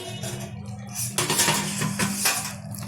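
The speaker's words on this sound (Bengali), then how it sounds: "ঢাকনাটা তুলে দিচ্ছি।" A metal lid lifted off a pot of chilli chicken, a clattering clink of metal on metal followed by a brief rattle, close and moderately loud, with no talk.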